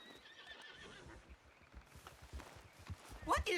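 A horse in the western video game Red Dead Redemption 2 clip-clops along, then gives a sharp, loud whinny near the end, with faint game noise around it.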